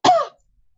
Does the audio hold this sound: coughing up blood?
yes